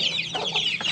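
Hens cluck softly with chicks cheeping close by, a brief burst of overlapping chirps and low clucks while the hens teach the chicks to eat grain.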